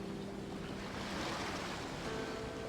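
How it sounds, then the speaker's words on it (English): Ocean waves at a harbor in Genshin Impact, a continuous, even wash of surf with a breezy hiss that holds steady throughout and no voices. "You mean the sound of the ocean?"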